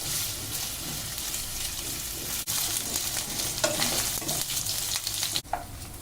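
Paneer frying in a pan for shahi matar paneer, a loud continuous sizzle with stirring scrapes and a couple of sharp clacks of the spoon against the pan.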